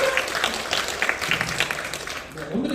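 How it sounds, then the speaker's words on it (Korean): Congregation in a church breaks into brisk, moderately loud clapping, a steady patter of many hands lasting a few seconds with a voice speaking faintly underneath. "박수 한번 칠까요?"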